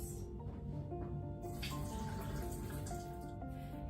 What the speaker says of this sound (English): All right, so I'm gonna drain the juice